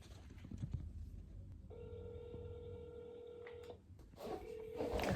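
A telephone ring tone purrs in a long repeated burst and goes unanswered, faint and distant-sounding, with a short second ring starting near the end and some rustling background noise.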